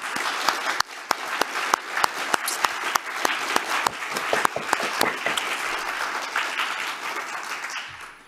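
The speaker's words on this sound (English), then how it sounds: "Let's give her a round of applause." An audience at a formal opening ceremony gives a round of applause for an ambassador, a steady wash of clapping with a few sharp, distinct claps standing out near the front, tapering off toward the end.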